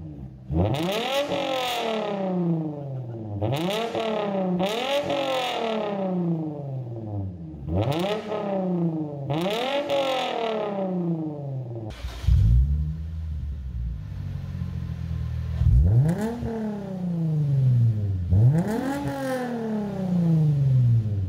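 A Lexus IS with a muffler-deleted exhaust blips its engine again and again, each sharp rev rising and falling in quick succession, with a brief rumbling idle in the middle before more revs.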